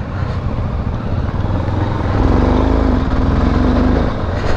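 A MASH X-Ride 650 single-cylinder motorcycle on a trail course near Lyon thumps loudly and close, its engine note rising into a steady throbbing pull with no talking.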